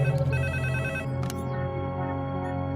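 A telephone rings with a loud, close electronic ringtone: a rapid warbling burst followed by steady sustained tonal ringing with no talk.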